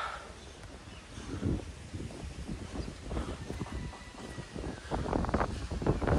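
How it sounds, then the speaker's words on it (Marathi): Strong wind gusting up high outdoors, a steady rushing roar with louder buffets toward the end, heavy and continuous across the whole stretch. "काय हवा सुटली वरती."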